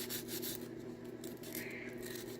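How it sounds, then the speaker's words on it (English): Sandpaper rubs steadily over a damaged piece being restored, making a continuous close scratchy hiss with even strokes and no pauses, with no voices. "Now I'm going to work it with a bit of sandpaper and keep going down grits until I can hardly make out the scratches."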